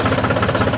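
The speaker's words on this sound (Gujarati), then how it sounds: "સ્ટાર્ટ કરી લઈએ ટ્રેક્ટરને।" A farm tractor engine runs close and loud, with a steady rhythmic knocking chug throughout the short moment.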